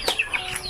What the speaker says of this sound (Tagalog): Ang chicken.